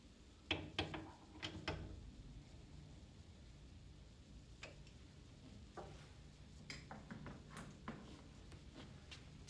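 An adjustment tool tightens the set screw on a table-top router, giving a few faint metallic clicks and ratcheting ticks in short bursts against a quiet workshop background.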